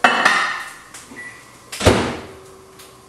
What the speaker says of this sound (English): I'm just going to put it in the microwave